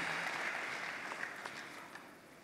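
An audience in a room claps briefly at a fairly faint, distant level, fading out over a couple of seconds.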